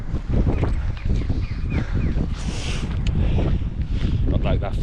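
Loud, gusty wind buffets the microphone in heavy rumbling blasts while hiking Hadrian's Wall near Sycamore Gap, with a voice speaking faintly beneath the roar.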